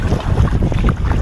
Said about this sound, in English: Wind is howling for the third day in a row.